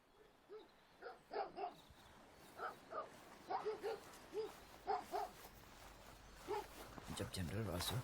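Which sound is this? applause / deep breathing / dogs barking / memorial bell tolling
dogs barking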